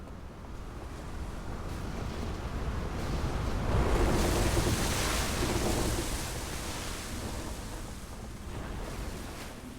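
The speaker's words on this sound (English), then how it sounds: "Why would there be big waves and thunder and stuff?" Big waves and thunder in the video game Outer Wilds: a broad rumbling surf swells loud in the middle and ebbs again, steady and unbroken, with no voices.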